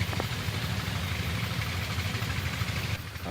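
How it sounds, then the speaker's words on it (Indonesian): Steady low engine rumble idling nearby, a continuous even drone with a faint vibrating texture and no voices. "Karena kan ada suara mesin."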